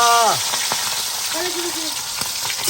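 Hot oil hisses in a pan while eggplant fries, a continuous sizzle with brief tonal sounds and occasional clicks mixed in, and no clear speech over it.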